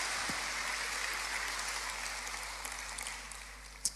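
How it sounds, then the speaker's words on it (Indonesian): Sustained, dense applause from a church congregation, loud and continuous for several seconds before gradually thinning out, with a sharp clap standing out near the end and no speech over it. "Tepuk tangannya boleh yang paling meriah buat Tuhan kita."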